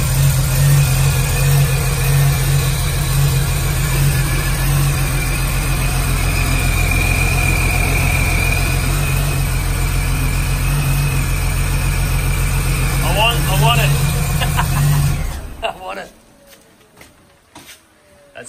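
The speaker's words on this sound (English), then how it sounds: "Dino builds replica V8 cars for guys, and he has here a manual AU replica Johnson 17 car. Supercharged manual" A supercharged V8 Ford Falcon AU replica race car with a manual gearbox idles loudly and steadily at close range, its deep rumble continuous for about fifteen seconds before cutting off abruptly, leaving quiet background.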